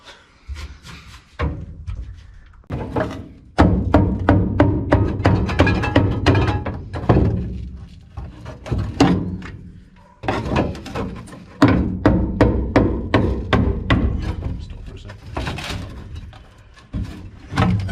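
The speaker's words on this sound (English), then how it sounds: "makes it really easy just to pull off just with a hammer and chisel" Repeated sharp metallic thunks of a hammer striking a chisel to pry off a spot-welded floor panel on a 1968 Valiant ute, in irregular bursts close by, with short pauses between runs of blows.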